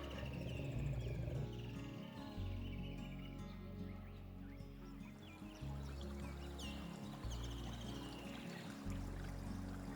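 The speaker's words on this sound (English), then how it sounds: "The song of birds mingles with the roar of jaguars" Jaguars in a South American Amazon rainforest give deep, rumbling roars, with birdsong mingling above a dense, continuous wildlife backdrop.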